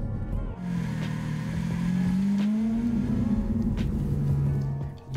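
A Lamborghini Aventador drives along, its engine humming low and steady with a rising then easing tone, close and moderately loud under road noise.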